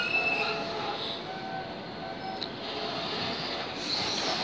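A train bound for Norwich rumbles steadily on the rails into Stowmarket station with faint wheel squeals and high metallic whines, the noise easing slightly as it slows.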